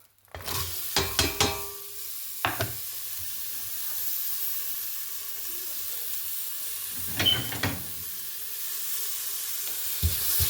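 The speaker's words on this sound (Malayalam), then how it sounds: "ഇതെല്ലാം ഒന്ന് ഇളക്കി യോജിപ്പിച്ചിട്ട്" Chopped carrot, mint and coriander for biryani sizzle steadily in a pot, with short bursts of metal spoon clatter as they are stirred together.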